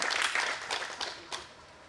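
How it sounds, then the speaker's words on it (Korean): Audience at a Rotary district meeting applauds: a dense, fairly faint wash of clapping that stays steady for a moment, then thins and fades with a few scattered late claps. "박수 한번 쳐주세요"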